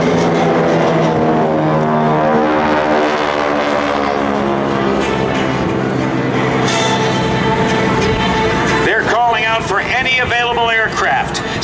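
Several GEICO Skytypers propeller airplanes roar loudly overhead as they pass over the target area at an open house air show, a sustained droning sweep with shifting pitch, with a public-address voice talking near the end.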